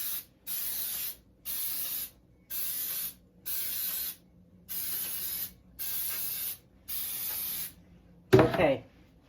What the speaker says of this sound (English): So you're just going to spray your pan.